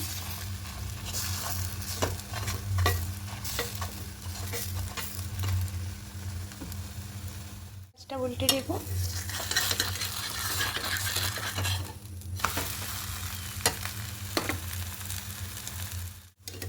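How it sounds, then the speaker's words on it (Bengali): Sweet gola roti batter sizzles steadily in butter on a hot pan, a loud close frying hiss with occasional scrapes and clinks of a spatula, a brief pause midway, and a short spoken remark. "প্যানটা খুব ভালো করে গরম করে তবে বাটারটা দিতে হবে"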